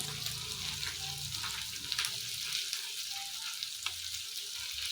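Cinnamon and cloves sizzling in hot oil in a pan while a flower green curry is being cooked, a steady close frying hiss with light stirring scrapes throughout.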